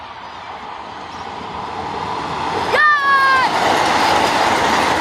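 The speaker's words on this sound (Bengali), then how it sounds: "ফাইনালি ওই ট্রেনটা চলে আসলো" A Vande Bharat express train arriving at a railway station, heard as a steady rising rumble of passing carriages with a sharp, bright horn blast midway that fades into continuing rolling noise.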